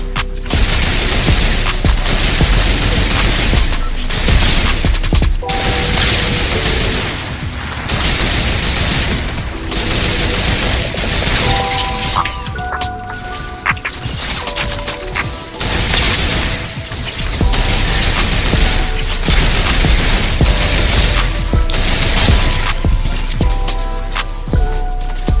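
Rapid, sustained automatic turret fire in Fortnite, loud and dense bursts of shots with booms and mechanical clatter, running almost without pause.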